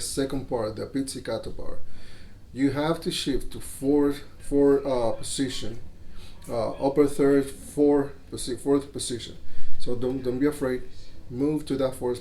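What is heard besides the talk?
None of the usual background noises is heard.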